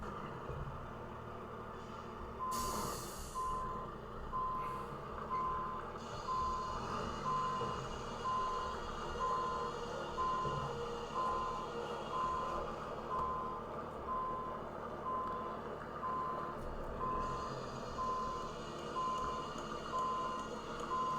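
Construction site ambience in American Truck Simulator on a San Francisco street: a steady, rhythmic reversing beep repeats throughout over a continuous truck engine rumble, with a brief burst of hiss early on.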